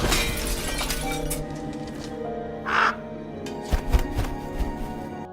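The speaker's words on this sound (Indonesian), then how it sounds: "dari dalam tubuh Gilpin tiba-tiba keluar kawanan burung gagak." A flock of crows caws in harsh, scattered bursts over a dense, noisy background, with a sharper rasping call partway through and several abrupt cracks near the end.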